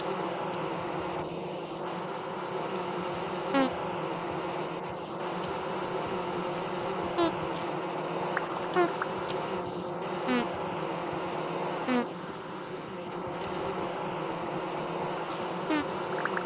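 Bees buzz in a dense continuous drone, with individual insects whining louder as they pass close, over a steady hum.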